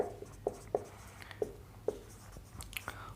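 Pen or marker writing by hand on a board or paper in a chemistry lesson, with sharp tapping strokes at irregular intervals, close and fairly quiet.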